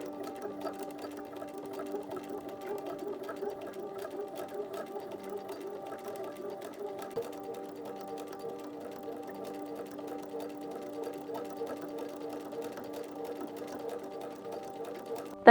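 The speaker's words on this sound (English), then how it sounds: "go ahead and stitch along this inner folded edge all the way down" A sewing machine stitches a curved garment hem along an inner folded edge, running in a steady, even whir with a constant rhythmic hum throughout, close and moderately loud, with no pauses.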